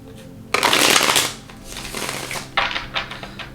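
A deck of divine animal oracle cards is shuffled by hand in a loud, papery riffle burst, then fades into softer card handling with a couple of closer flicks near the end.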